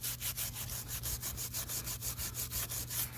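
Steady rhythmic rubbing as a rag wipes down a tire bead after Scotch-Brite scuffing, before bead sealer is applied to fix a leaky tire; even back-and-forth strokes, close and fairly loud, with no talking.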